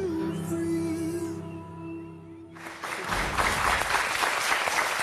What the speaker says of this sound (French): Vous avez raison de nous applaudir.